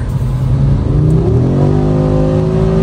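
A 2024 Audi RS3 in sport mode gives a loud, close engine note that rises steadily in pitch across a few seconds, a continuous rev with no voices over it.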